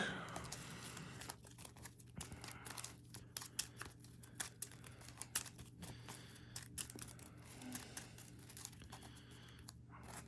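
A deck of game cards shuffled by hand during a Wolverine vs Ultron tabletop card game, giving quiet, repeated riffling clicks and soft rustles close by with no talk.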